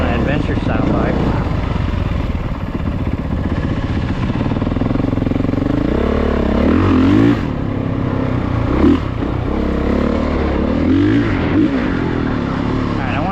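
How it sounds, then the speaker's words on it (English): Two Yamaha dirt bikes ride at an offroad park, their engines droning continuously with rising and falling revs that swell and fade in the mid-distance over a constant outdoor wash. "I hear side by sides. Oh no, it's dirt bikes."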